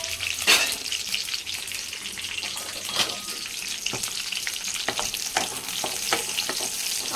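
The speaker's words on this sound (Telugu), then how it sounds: "ఆయిల్ కొంచెం హీట్ అయిన తర్వాత మిర్చి వేసి ఫ్రై చేసుకున్నాం" Green chillies frying in oil in a kadai, with a strong constant sizzle and crackle, close up, broken by a few sharp spatters and stirring scrapes.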